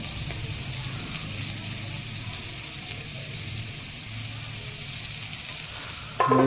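Capsicum stirred and fried in a pan for mixed fried rice gives a steady, moderate sizzle with soft stirring underneath, ending in a sudden louder clatter.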